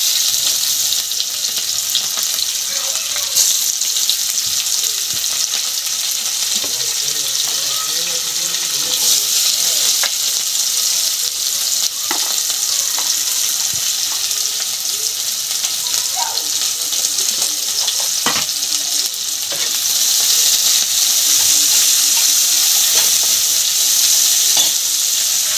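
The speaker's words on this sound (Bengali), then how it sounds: "এরপর পেঁয়াজগুলো ছেড়ে দিলাম।" Onions frying in a pan for a Bengali mankochu and prawn curry with dried chillies, giving a continuous loud hiss and sizzle with bright crackle, steady throughout, with a few small clinks.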